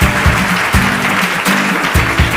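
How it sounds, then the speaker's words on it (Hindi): Loud studio audience applause on a Hindi children's quiz show, broad and continuous clapping with rhythmic accents and a low musical pulse beneath, filling the whole short stretch. "जोरदार तालियां हो जाए उनके लिए।"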